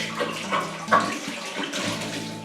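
Water runs into a demijohn to clean it out for homebrewing cherry brandy, a continuous close splashing and gurgling pour with a few sloshing bursts.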